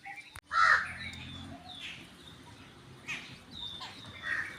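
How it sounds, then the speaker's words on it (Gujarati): Crows cawing in Gir forest near a temple: a few separate harsh caws ring out at intervals over quiet outdoor background, moderately close, with no talking. "આ છે ગેરના કાગડા અહીંયા ગેરમાં કાગડા જોવા મળે છે"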